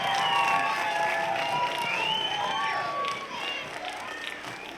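An audience at a private elementary school holiday concert claps and cheers, a dense wash of applause with children's high shouts and whistles riding over it that eases slightly toward the end.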